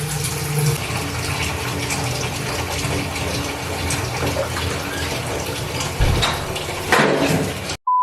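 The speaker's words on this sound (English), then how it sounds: "I'm gonna fill it with like warm water but not hot" Warm water running steadily into a bin from a tap, a continuous gushing fill with a brief louder splash near the end.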